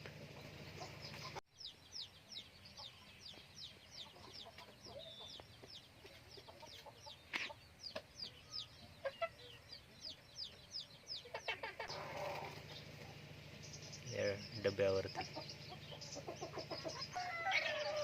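Chickens cluck in quick repeated bursts nearby, including a hen that has laid eggs, with a rooster-like call and a few faint words spoken in the background.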